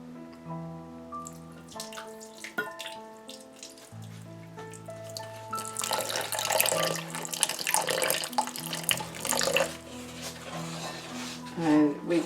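Water pours from a tap into a bowl during vegan frittata prep, running and splashing in a steady stream over kitchen background, with tonal clinks early and some nearby movement.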